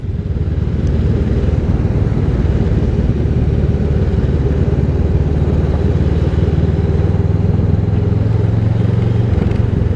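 A group of motorbikes on a road during a charity ride, heard as a continuous, loud, low engine drone and rumble from close behind that stays steady throughout, with no speech.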